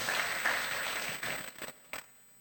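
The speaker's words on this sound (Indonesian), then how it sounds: "Tepuk tangan." A church congregation at a Sunday worship service applauding, a thick burst of clapping that fades out unevenly, with a few lingering claps trailing off near the end.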